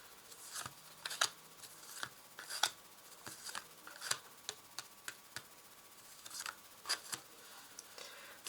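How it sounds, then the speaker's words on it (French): Cards are drawn one by one from a deck, giving a run of soft, crisp snaps and flicks at an uneven pace; quiet and close, with no talk. "Donc je vais tirer ici 5 cartes."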